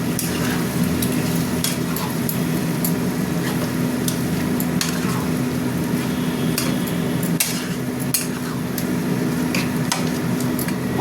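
Spiced masala with plenty of sweet onion frying in a pot, a steady dense sizzle with scattered clicks and scrapes from stirring, loud and continuous throughout with no voices.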